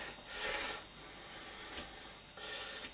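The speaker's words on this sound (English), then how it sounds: "I'm going to do my little trick of crimping down the edges using the fork" A fork crimps down the pastry edges of a shrimp pie, giving three short, close raspy scrapes separated by brief pauses.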